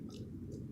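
A hungry baby chews food fed from a bowl, soft, close and wet, in a brief stretch of quiet mouth noise.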